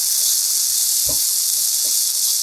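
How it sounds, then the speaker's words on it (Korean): Shredded potato sizzles steadily as it is stir-fried in a pan with garlic, a constant bright hiss with a few soft clunks beneath it. "감자채 넣고 볶아주세요."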